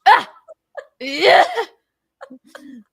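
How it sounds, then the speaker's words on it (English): A voice acts out a series of exaggerated sneezes: a sharp burst, a few small squeaks, a long wheezing explosive sneeze, then softer trailing yelps. "But my sneeze is like this at home."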